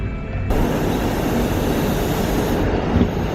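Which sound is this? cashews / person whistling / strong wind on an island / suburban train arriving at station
suburban train arriving at station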